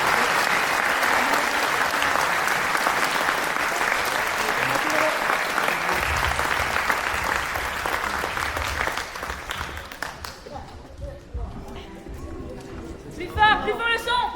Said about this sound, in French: Encore un tonnerre d'applaudissements pour eux.